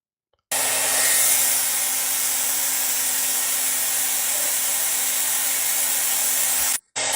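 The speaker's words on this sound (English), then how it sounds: "He's got a blow dryer on the fan, all just to play NBA 2K25." A hair dryer blows on the exposed fan of an opened PS4 console with its outer shell removed: a loud, steady, close rushing whir that runs almost unbroken, dropping out briefly just before the end.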